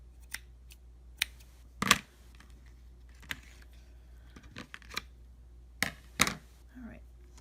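Scissors snipping crochet thread for a friendship bracelet: a few sharp, brief clicks spaced irregularly against a quiet room, with faint soft handling noises between cuts.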